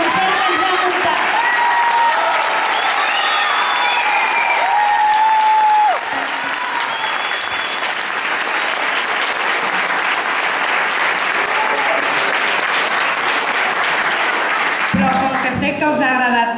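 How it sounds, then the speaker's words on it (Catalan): A school audience applauds at length after a children's Christmas concert, steady dense clapping filling the hall with some voices and whistles mixed in, ending abruptly with a few cries near the close. "fer aquest fort aplaudiment a la Marc"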